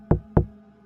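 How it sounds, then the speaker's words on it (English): Two slow, heavy knocks on a motel room door, deep and thudding, close and loud in an otherwise silent room. "3 slow, heavy knocks."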